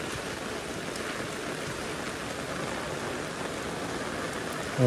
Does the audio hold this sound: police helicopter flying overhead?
no